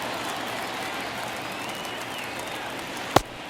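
Baseball stadium crowd noise, a broad distant wash of cheering and chatter holding steady, ending with a single sharp crack.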